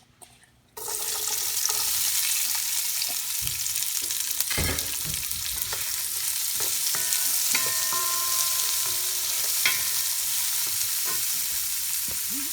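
Onions frying in olive oil in a hot pot for Bicol Express, a loud hiss that bursts up as they drop in and then holds as a steady sizzle, with spoon scrapes and clinks as they are stirred.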